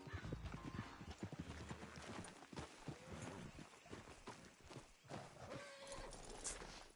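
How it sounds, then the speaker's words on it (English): Horse hooves clip-clopping in the video game Red Dead Redemption II during a horse race, a quiet, irregular run of hoofbeats over game background sound. "Damn horse acting up on me."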